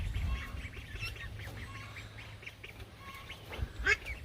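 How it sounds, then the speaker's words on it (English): Soft, scattered quacks and peeps from young ducks, repeated irregularly at close range over a low steady background rumble. "To be giant baby ducks. And now they're starting to quack."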